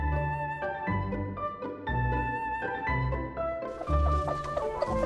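Chickens cluck softly near a rooster at a snowy mountain homestead, short low calls repeating over a steady tonal background.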